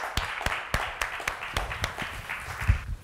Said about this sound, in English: I hope you heard the applause here in the room